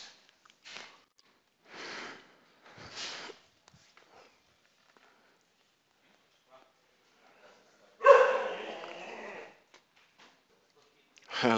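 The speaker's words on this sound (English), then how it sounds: "So we have a little dog over here." A small dog barks loudly in a short burst near the mic, following earlier quieter yips or speech-like bursts; a faint sound returns at the very end.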